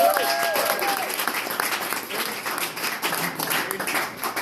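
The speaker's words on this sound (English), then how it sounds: "Let's give them a round of applause." A crowd of event attendees claps for the guests in a busy, mid-level burst of applause. A tonal voice-like sound is audible at the start, and faint chatter runs beneath the clapping throughout.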